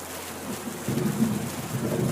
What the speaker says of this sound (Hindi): साथ ही साथ बारिश और भी ज्यादा तेज हो रही थी।